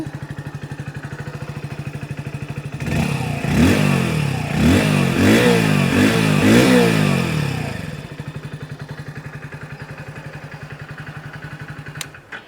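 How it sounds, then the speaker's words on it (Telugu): A 2024 Hero Splendor+ Xtec 2.0 motorcycle idles with a steady low exhaust putter, then gets a series of quick revs in the middle that swell loud and fall back to idle. "ఎగ్జాస్ట్ సౌండ్ అయితే ఒకసారి వినండి"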